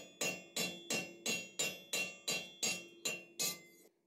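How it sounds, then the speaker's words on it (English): About ten evenly spaced, ringing metallic blows of a ball peen hammer riveting a forged hook, each strike sharp and close with a short clinking decay, slowing slightly toward the end. "Flip it over and go with the ball peen."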